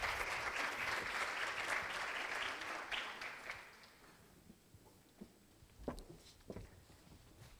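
A conference audience applauding loudly at first as a speaker is invited to the podium, the clapping gradually thinning out and fading to a few scattered claps and shuffling.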